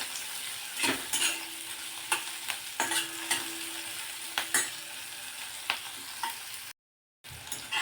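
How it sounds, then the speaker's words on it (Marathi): Chopped onion sautés lightly in oil in a pan for kaju masala curry, giving a steady close sizzle and frying hiss. Repeated utensil stirs and scrapes punctuate it, and a brief dropout comes near the end. "आणि हा कांदा या तेलावरती अगदी थोडासा परतून घ्यायचा."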